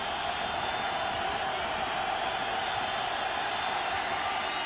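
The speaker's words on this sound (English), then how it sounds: "Here's the crowd on 3rd and 18." Steady, loud roar of a stadium crowd at an NFL game, Redskins at Raiders, on third and 18, a dense unbroken wash of voices with no single shouts standing out.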